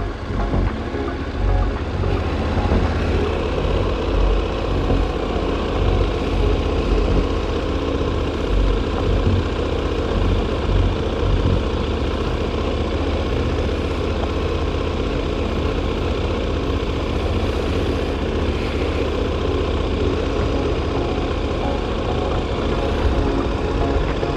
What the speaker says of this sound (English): I'm dis distracting her because of my uh, loud engine noise